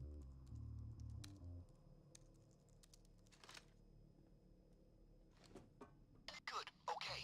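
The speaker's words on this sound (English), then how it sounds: "Alright, let's hit the keyboard." Keyboard typing in the video game Payday 2: bursts of quick soft key clicks scattered over several seconds, quiet and intermittent, with a low tonal game hum at the start.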